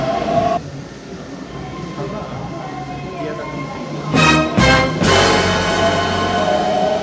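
Loud rumbling train noise in Japan fills the clip, with sharp bursts of screeching and rattling as carriages pass close by.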